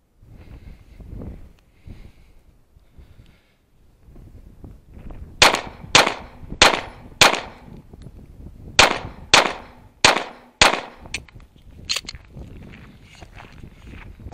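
Handgun shots fired at a target 25 yards away on a shooting range, about eleven sharp, loud reports in a steady, deliberate rhythm, with some quiet shuffling before them.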